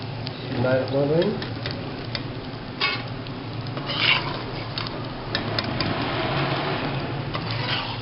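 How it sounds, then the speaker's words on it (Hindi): Edible gum (gond) fries in ghee, puffing with a soft, steady sizzle and crackle at close range, while voices speak over it and a spoon occasionally clinks. "ये गोंद हमारा फ्राई हो गया है।"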